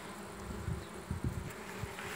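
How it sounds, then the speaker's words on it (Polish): Honeybees buzz close by as they hurry back into a hive ahead of a storm, several faint passing hums rising and fading over a quiet outdoor background. "tu też widać, jak pszczoły wracają szybciutko do ula"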